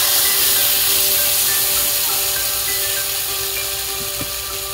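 Ground spice paste goes into hot oil already tempered with dried chilli, cardamom and cinnamon for shukto, giving a steady, close, hissing sizzle that fades slightly over a few seconds.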